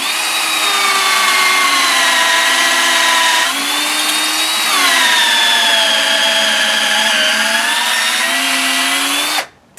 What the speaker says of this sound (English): I'm just going to grab my electric drill